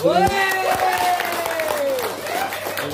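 Applause from a seminar audience, clapping under a loud voice speaking over it, steady throughout the short stretch.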